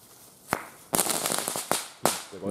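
Lesli Rambo firecrackers go off in a series of loud, sharp bangs, about four crisp close blasts spaced irregularly over a couple of seconds with faint crackle between them and no talking.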